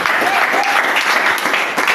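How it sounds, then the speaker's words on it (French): A church congregation at a worship service claps together in a loud, continuous wash of applause, with a few voices rising faintly over it. "Applaudissez encore pour le Seigneur."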